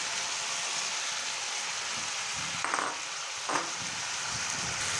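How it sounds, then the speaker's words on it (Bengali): Chopped tomatoes go into a pan of mushrooms, raising a loud, steady hiss of frying with a couple of brief bursts as they land, close and without talk. "কাটা টমেটোগুলো দিয়ে দেব।"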